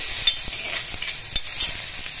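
Sliced onions sizzle and fry steadily in a pan for a fish curry with curry leaves, with close scraping stirs and light clicks of the utensil repeating throughout; no one speaks.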